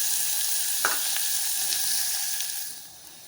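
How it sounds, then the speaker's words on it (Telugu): Onions frying in a pan with a steady, hissing sizzle, a couple of soft stirring scrapes, the sizzle easing off at the end. "పచ్చివాసన పోయే వరకు ఉల్లిపాయలు వేయించుదాం."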